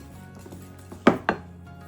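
A dough whisk knocks and scrapes in a mixing bowl, giving a few soft taps followed by two sharper clinks close by, with no talking.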